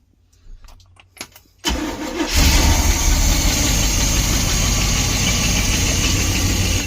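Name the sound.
1972 Barth motorhome engine starting after pumping the carb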